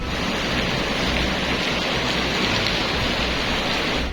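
Heavy rain and floodwater in Medina, Saudi Arabia, a dense, loud, unbroken hiss of downpour and rushing water with no voices.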